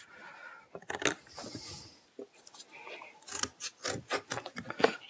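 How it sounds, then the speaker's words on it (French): Thick cardboard is cut into small squares, giving a series of close, crisp cutting and tearing crunches in irregular bursts, with brief quiet gaps between them. "je découpe mes petits carrés de carton"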